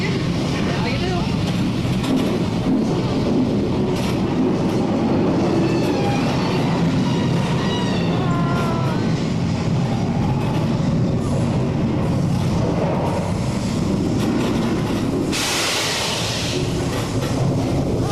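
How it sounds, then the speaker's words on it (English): A subway train rumbles closer in a steady low roar with squealing metallic tones, while people talk nearby at Universal Studios. "So we got a subway train coming right off the train or something."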